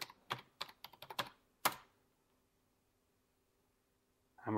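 A burst of quick, crisp key presses on a computer keyboard enters a password, about a dozen sharp clicks in the first two seconds, then near silence before another faint clatter at the end.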